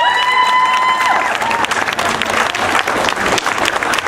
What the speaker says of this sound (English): Can we give them one more big round of applause?